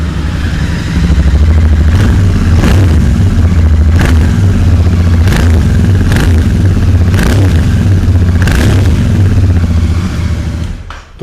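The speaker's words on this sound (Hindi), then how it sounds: "तो ये आपकी इंटरसेप्टर 650 की आवाज़ थी।" A Royal Enfield Interceptor 650 twin-cylinder motorcycle idles loudly up close, with several sharp throttle blips revving the engine at regular intervals before it settles and stops.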